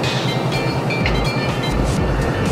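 The Subak Raftar express train rumbles and clatters loudly nearby, wheels clacking over rail joints in a steady rhythm as it departs Lahore Junction railway station.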